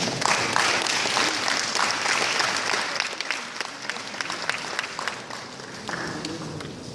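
Audience applause at the 6th Lagos State Climate Change Summit as a speaker is welcomed to present the lead paper, a full round of clapping that starts loud and gradually thins and softens over several seconds.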